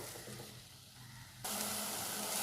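Tomatoes sautéing in a pan for tomato rice: a quiet sizzle that jumps abruptly to a louder, brighter hiss partway through, with faint stirring underneath.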